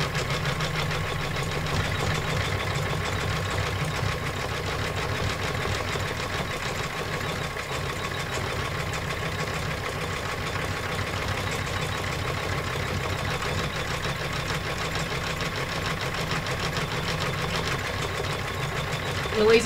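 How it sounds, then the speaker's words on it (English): An embroidery machine stitches trivet designs at 400 stitches a minute, giving a steady, fast mechanical whirring and rattling drone that runs unbroken and fairly loud throughout, with no talking. "I'm stitching at 400 stitches a minute"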